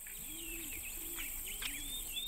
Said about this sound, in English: Even the usually drab doves and pigeons seem extravagant